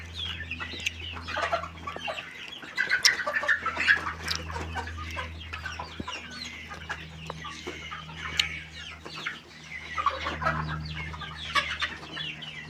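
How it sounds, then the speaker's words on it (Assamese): A flock of red farm chickens about two and a half months old clucking steadily while pecking at grain feed, close and continuous with overlapping calls and no talking. "আৰ মুৰ্গী পালন কৰিছোঁ।"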